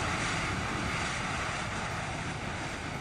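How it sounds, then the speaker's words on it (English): Boeing 737 MAX 8 thrust reversers roar in a flight simulator video game, a dense, steady broadband rush of engine noise that stays loud and unbroken throughout. "The reversers and external are so loud"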